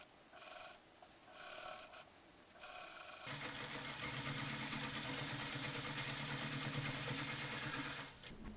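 A sewing machine stitches a costume yoke seam, starting with short stop-and-go bursts of running, then settling into a steady, continuous hum for several seconds before it stops.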